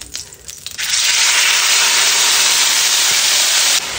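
Oil sizzles and hisses loudly in a frying pan while chicken barbecue cooks, a steady broadband crackle that starts abruptly after a quieter moment and runs continuously before easing slightly at the end.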